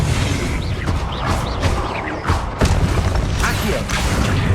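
Repeated Confringo fire-blast spell impacts during a Hogwarts Legacy boss fight against the Pensieve Guardian, several sharp booming hits and crashes spread through a busy, loud battle soundscape.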